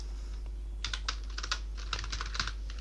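Rapid bursts of keystrokes on a computer keyboard while writing Excel VBA code for billing software, close and fairly quiet, arriving in short irregular clusters of taps with brief pauses between them.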